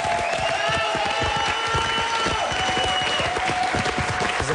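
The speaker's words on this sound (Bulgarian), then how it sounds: "Искам да чуя вашите аплодисменти за Гергана." A television talent show audience in Bulgaria applauds, dense loud clapping from a large crowd with light cheering, sustained and even from start to finish.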